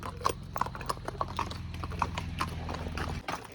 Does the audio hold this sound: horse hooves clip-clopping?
yes